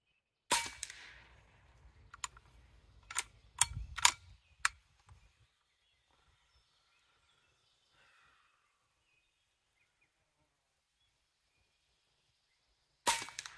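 An HP MAX .30 caliber air rifle fires Diablo Hades pellets, 44.75 grain, in a series of sharp, close cracks with pellet impacts, then quiet, and one more shot at the end.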